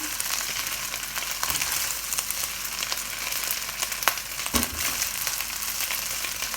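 Chicken frying in oil in a pan for a chicken fried rice dish, a steady crackling sizzle with scattered pops and a few brief stirring clunks, close and continuous.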